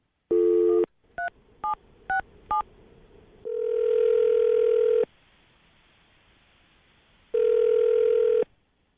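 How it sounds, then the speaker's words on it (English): A telephone tone, then five quick dialing beeps, followed by two long ringback tones separated by silence. "I'm going to dial the phone number right now, get her on the phone"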